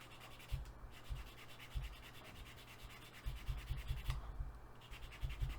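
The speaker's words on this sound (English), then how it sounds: "make sure you support it with your fingers and just sand it smooth" A part from a Jaguar E-Type is sanded smooth by hand, with close, rhythmic scratchy rubbing strokes repeating steadily and quietly.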